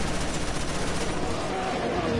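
Dense, continuous gunfire from Resident Evil 6, a steady wall of overlapping shots and bursts at loud level for the whole stretch, with no clear gaps between rounds.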